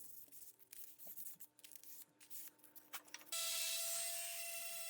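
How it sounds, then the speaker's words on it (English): Sandpaper rubs against the inside of a wooden memorial flag case with soft, irregular scraping strokes, fairly quiet, ending in a steady hum from a machine that starts up. "Just sanding the inside right now."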